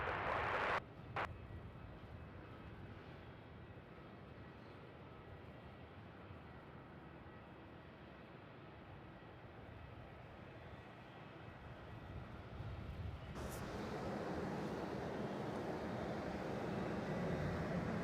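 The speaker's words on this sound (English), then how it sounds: "departing Qantas 781 off to Perth in a 737 bus" A Qantas Boeing 737 departs Melbourne Airport, heard from a distance as a low, steady jet roar that swells noticeably louder near the end. No talking.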